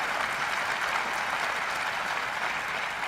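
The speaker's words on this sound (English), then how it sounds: "And the crowd goes wild." Crowd cheering and applause from a music video game, a steady, dense wash of clapping and cheers that holds at an even, loud level throughout.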